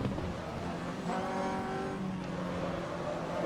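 A race car braking hard on a circuit, heard from close by as a loud, steady engine drone with whining harmonics that shift slightly in pitch, with no one talking.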